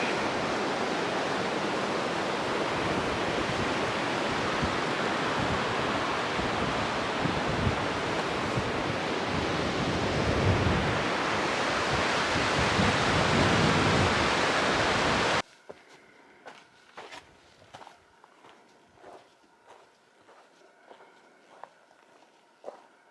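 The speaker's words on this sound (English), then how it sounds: "This one's the middle fork of the San Joaquin River." The middle fork of the San Joaquin River rushing past, a loud, dense and steady roar of flowing water for about fifteen seconds before cutting to faint, scattered knocks and rustles.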